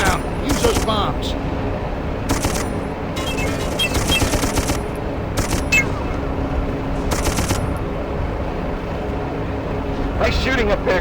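Battle in the video game Darkest of Days: sustained machine-gun fire and explosions from bombs rattle loudly and continuously, with bursts of heavier gunfire punctuating the dense, close barrage.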